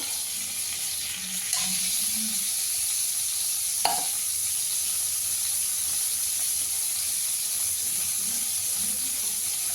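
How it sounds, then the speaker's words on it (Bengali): Potato pieces fry in a pan of oil already used for frying prawns, for a prawn and vegetable curry. A steady, close sizzle and hiss runs throughout, broken by a single brief clink, with no voices. "আলুটা ভেজে নেবো আগে একটু।"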